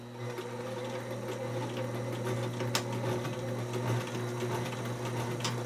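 A sewing machine runs steadily, stitching upholstery fabric while a 1950s baby stool is re-covered, its motor drone continuous and close with faint needle ticks throughout.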